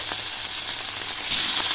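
Katla fish frying in oil, a loud close continuous sizzle with fine crackling that swells slightly near the end.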